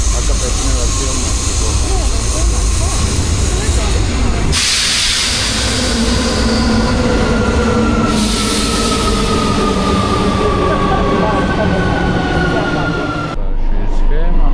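A Rome metro train runs through a station, its loud hiss and rumble rising, with a brake squeal and whine as it slows and a sudden shift in sound near the end.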